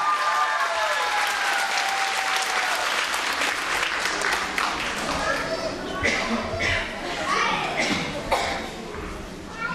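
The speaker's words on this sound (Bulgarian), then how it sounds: "Аплодисменти за Любомира!" An audience at a children's concert applauds a young performer, a full, continuous wash of clapping lasting nearly ten seconds with some voices mixed in.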